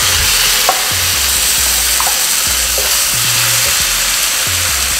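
Tomatoes are added to a sizzling masala for a deer meat roast, producing a loud, close, continuous fry with repeated scraping stirs through the pan.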